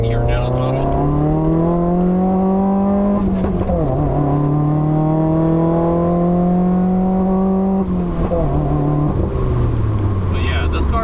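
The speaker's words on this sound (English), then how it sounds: "So let's go do another second gear pull here. So second gear down the throttle." 2015 Subaru WRX engine under a full-throttle pull, a loud close rising drone in several long sweeps with gear-change dips between, steady throughout with speech faintly underneath.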